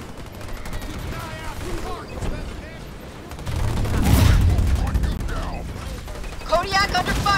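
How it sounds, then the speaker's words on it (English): In Halo Wars 2, ground troops fire on marines in bursts of gunfire and mechanical clatter, with a heavier rumbling stretch midway, mixed under frequent shouted voice lines from units. "I'm getting shot at by ground troops."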